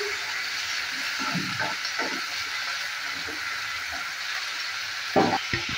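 An egg and onion mixture fries in a pan, seasoned with salt and turmeric, giving a constant sizzling hiss with a few soft scraping stirs and a sharper clatter near the end.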